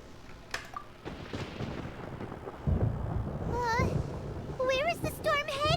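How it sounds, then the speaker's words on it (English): Thunder in the Genshin Impact video game: a deep rumble swells about halfway through and keeps rolling while a high-pitched, childlike character voice speaks over it. "Paimon hears thunder!"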